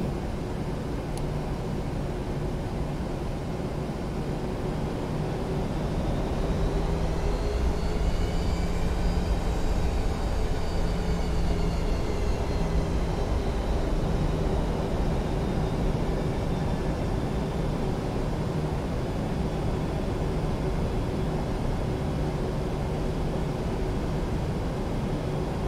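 A Ryanair Boeing 737 takes off in the FSX flight simulator, a steady engine roar with a rising whine building midway and staying loud and constant throughout, with no talking.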